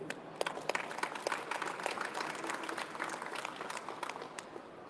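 Faint applause from attendees at a governor's press conference about new airport security technology, a scattered patter of clapping hands heard from a distance.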